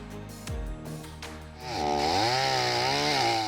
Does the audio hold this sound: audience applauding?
no